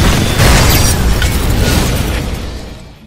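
A film-effect car explosion as fire reaches the fuel tank: a loud, close, roaring blast with debris and rumble that slowly dies away over a few seconds.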